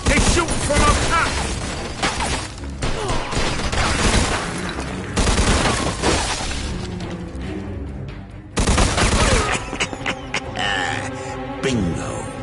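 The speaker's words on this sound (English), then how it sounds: "They shoot from up top!" Dense, loud gunfire fills a shootout in the video game Mafia 2 Definitive Edition, with rapid bursts and booms overlapping throughout and brief shouted voices mixed in.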